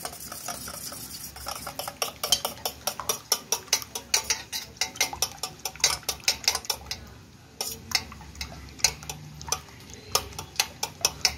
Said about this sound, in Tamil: இது முட்டையை நல்லா உடச்சி ஊற்றிட்டு மிக்ஸ் பண்ணிக்கலாம்.